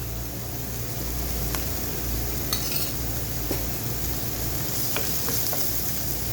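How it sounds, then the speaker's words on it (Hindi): Onion sautéing in two tablespoons of oil in a pan, a continuous close sizzle with scattered small scrapes and taps of a spatula, no voices. "हमने बस प्याज को सौथे करना है"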